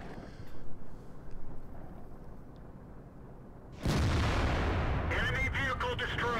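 Tank cannon fire in the World of Tanks video game: a quiet rumbling lead-in, then a sudden loud booming shot with a long roaring tail and metallic ringing echoes close up.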